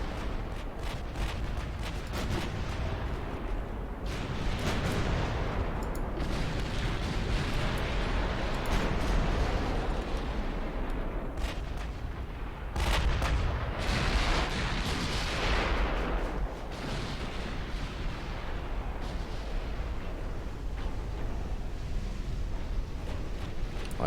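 British 16-inch and 15-inch naval guns fire in Ultimate Admiral Dreadnoughts, a long stretch of dense, rolling artillery booms and heavy rumble with repeated loud salvos overlapping throughout.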